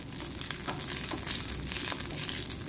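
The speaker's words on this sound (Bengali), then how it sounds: "এবার আমি পেঁয়াজ আর রসুনটা দিয়ে দেবো" Onion and garlic fry in oil in a pan, a dense continuous sizzle with faint stirring scrapes, close and steady, with nobody speaking.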